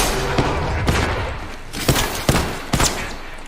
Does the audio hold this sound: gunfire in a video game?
yes